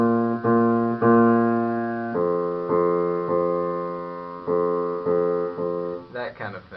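Bass line played in a walking rhythm of two short quarter notes then a longer half note, repeated several times at a steady moderate tempo, fairly loud and alone, ending in a brief scrape of noise.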